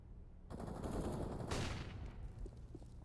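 Gunfire from a FAMAS rifle and a Deagle pistol in the Counter-Strike video game, a dense continuous burst of shots lasting a few seconds, faint in level and heard on its own without talk.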